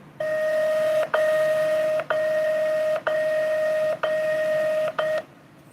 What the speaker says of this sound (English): the classic recording of the chime doing 60 beats per minute